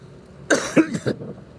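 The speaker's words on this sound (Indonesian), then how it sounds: "batuk jelek banget ya batuk gue ya" A short burst of harsh, raspy coughs from a person with a throat inflammation, three or four rapid hacks close to the microphone, then quiet.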